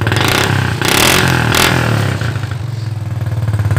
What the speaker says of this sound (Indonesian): ada letupan-letupan kecil di knalpot